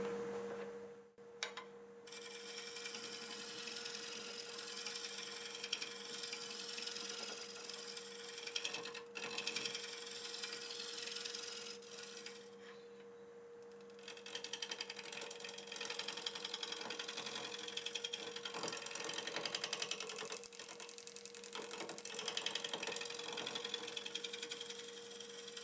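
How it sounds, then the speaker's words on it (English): A negative rake scraper works a walnut piece spinning on a wood lathe, giving a continuous close scraping rasp over the lathe's steady motor hum, with the cutting noise swelling and easing as the tool moves and no speech. "Just go over it with the negative rake scraper a little bit."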